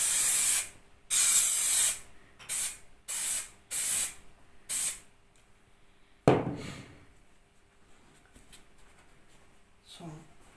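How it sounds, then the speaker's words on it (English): Several short bursts of spray adhesive hiss close by onto a car seat frame in an irregular rhythm, followed by a clatter and quiet handling noises. "I'm going to spray up the sides of the frame."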